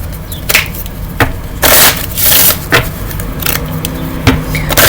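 Tarot cards are shuffled close up, making repeated riffling and sliding bursts with papery slaps in an irregular rhythm, fairly loud and with no talking.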